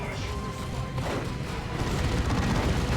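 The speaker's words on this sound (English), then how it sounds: "Look at the damage from that assault cannon" Rapid assault cannon fire in a Dawn of War 2 battle, a dense continuous roar of booming shots and crashing impacts that grows heavier toward the end, with mixed game combat noise.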